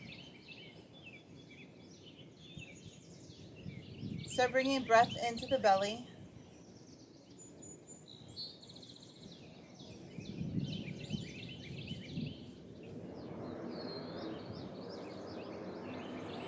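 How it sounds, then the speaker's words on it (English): Birds chirp and sing faintly outdoors in the background during a seated yoga session, with a brief louder burst of calls near the start, while an instructor talks calmly over them. "Just listen to the bird song."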